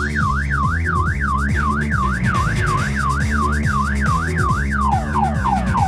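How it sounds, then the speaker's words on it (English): A car alarm wails in a rapid, looping up-and-down siren pattern, loud and close, over a steady low rumble, then switches to a different falling tone. "there's the red lights and the alarm."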